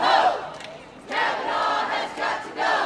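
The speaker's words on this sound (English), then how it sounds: "a crowd gathers at the Hamilton County Courthouse in opposition of Brett Kavanaugh's nomination to the United States Supreme Court" Protest crowd gathered at the Hamilton County Courthouse opposing Brett Kavanaugh's Supreme Court nomination, loud massed shouting and chanting that swells, dips briefly, then surges again in waves.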